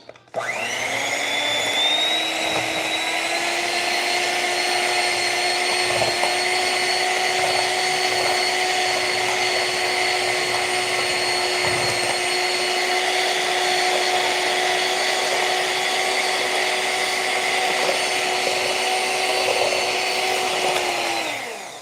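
An electric mixer whips homemade body butter, its motor whining at a steady high pitch that spins up at the start and runs continuously, loud and close, before winding down at the end.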